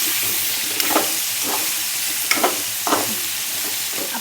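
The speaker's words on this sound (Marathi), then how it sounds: "वांगे छान फ्राय करून घ्यायचे. तिथेच आपल्याला बटाटे पण टाकायचे." Eggplant and potatoes frying in hot oil together, a dense continuous sizzle with occasional stirring scrapes breaking through.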